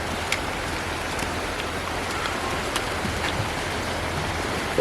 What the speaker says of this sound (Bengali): বৃষ্টি পড়তেছে বৃষ্টি পড়তেছে